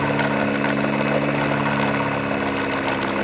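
A pulse motor runs steadily with its generator switched on, a loud continuous mechanical hum with fine rapid pulsing throughout, close and alone with no talking.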